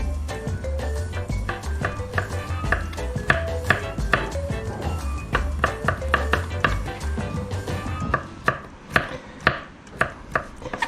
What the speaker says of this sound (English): you don't need to see me dicing all of this right now